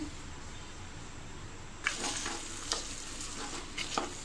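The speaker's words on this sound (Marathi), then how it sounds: "2 चमचे आलं लसणाची पेस्ट टाकूया आणि हे सुद्धा व्यवस्थित असं 2-3 मिनिटासाठी परतून घेऊया" Ginger garlic paste sizzles steadily in a pan over medium heat while chole is made, joined after a couple of seconds by several sharper stirring scrapes and clatters close by.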